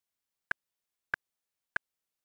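A software metronome clicks at 96 BPM: three sharp, evenly spaced clicks, each quiet and isolated against complete silence.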